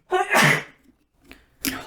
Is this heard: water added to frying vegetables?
no